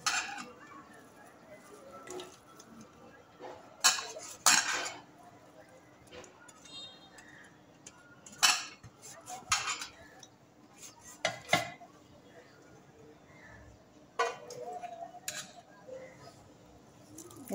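Chopped onion tipped into a cooking pan and stirred: scattered metallic clanks and scrapes of a utensil against the pan, irregular and fairly close, with quiet gaps between the louder knocks.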